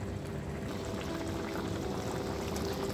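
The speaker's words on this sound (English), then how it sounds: "The fish already cooked, so I just want it to boil up a little." A pot of Guyanese butterfish stew with already-cooked fish in a little hot water simmering on the stove, giving a steady, close bubbling and gurgling wash throughout with no talk.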